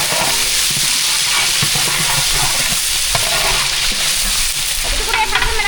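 Onions stir-frying in hot oil with green chillies for a Seerага samba mutton biryani, a steady loud sizzle with scraping stirs throughout, under faint talk.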